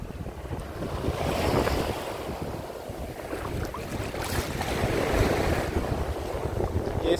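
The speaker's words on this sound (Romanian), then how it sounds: "Este a cincea zi consecutivă cu valuri, ce-i drept nu chiar foarte mare astăzi, dar e ceva." Gentle sea waves wash onto an eroded beach near Bellona port at Eforie Nord, a soft rolling surge that swells and recedes over steady wind buffeting the microphone, with no voices.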